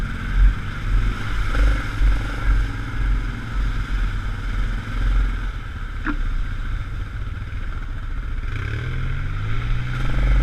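An ATV engine drones steadily as the vehicle drives through flooded, rutted mud and water on a benefit trail run, a continuous close rumble with slight surges and no talk.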